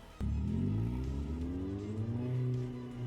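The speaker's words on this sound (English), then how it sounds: "The sound of the powerful engine shook the underground air." A powerful car engine in the Steins;Gate 0 video game, starting abruptly and revving into a loud, sustained roar that rises in pitch, close and dominant, with no voices over it.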